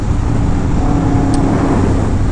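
Yamaha R1M sport motorcycle engine making a steady, loud, low rumble that holds evenly throughout with no pauses and no talking.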